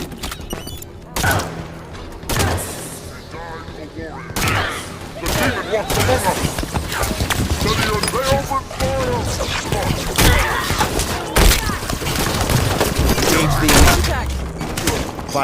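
Halo 5: Guardians gunfire erupts in dense, loud bursts and volleys of shots with thuds and impacts, alongside combat chatter and game effects throughout.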